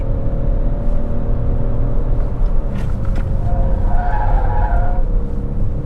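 A new Opel Mokka engine revs toward 6000 rpm while accelerating up a gentle slope, a steady loud droning roar with road and tyre noise throughout.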